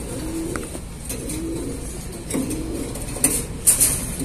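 Racing pigeons in a loft cooing softly at close range, low throaty calls repeating through the clip alongside light scuffling and a few sharp clinks near the end.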